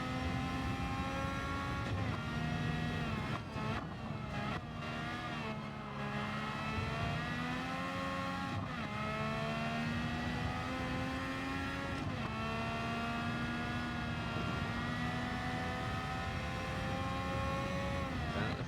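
A Honda RA272 racing car in Gran Turismo 7 at Alsace screams at high revs, a loud continuous engine whine with pitch dips at gear changes and brief lifts before climbing back up.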